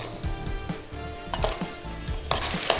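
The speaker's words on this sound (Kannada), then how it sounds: "ಮೊದಲಿಗೆ ಈರುಳ್ಳಿ ನುಗ್ಗೆಕಾಯಿ ಎಲ್ಲ ಸ್ವಲ್ಪ ಫ್ರೈ ಮಾಡ್ಕೊಳ್ಳೋಣ" Onion and drumstick pieces fry in a pan for sambar, giving a steady close sizzle with occasional clinks and scrapes from stirring.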